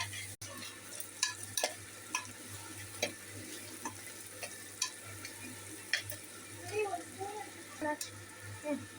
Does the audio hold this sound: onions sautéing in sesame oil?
yes